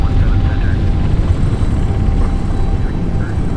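Steady, loud roar of an FSLabs A321neo airliner's engines during the takeoff roll and rotation in Microsoft Flight Simulator 2024, a continuous low rumble with a faint tonal whine holding evenly throughout.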